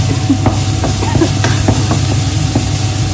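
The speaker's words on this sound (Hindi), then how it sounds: "थोड़ा सा भून लेंगे।" Vegetables sauté in a pan, a loud continuous sizzle close up with scattered stirring clicks and scrapes, no voices over it.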